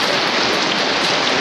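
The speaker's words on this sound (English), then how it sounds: "It is absolutely bucketing down now." Heavy rain pours down at a campsite, a dense, continuous loud hiss of drops pattering on surfaces with no gaps.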